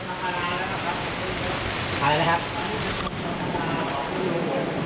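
Steady rain falling during a flood in Nakhon Si Thammarat, southern Thailand: a continuous hiss of rainfall throughout, with someone speaking briefly over it.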